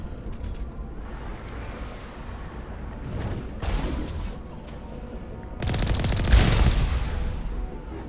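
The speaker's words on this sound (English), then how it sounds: "Yep, they're shooting." Gunfire in a Mass Effect firefight: bursts of shots over a low rumble, with a louder burst around the middle and a heavier, stronger volley near the end.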